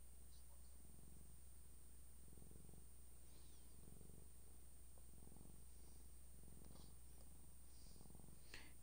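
A cat purrs close to the microphone in soft, rhythmic pulses, each breath a low rumbling burst, quiet against a steady background hum from a video game session.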